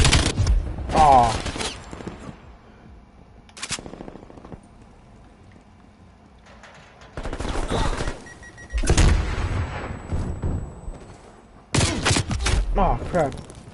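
Video game gunfire comes in several sharp, loud bursts with quiet gaps between them, mixed with a player's brief exclamations.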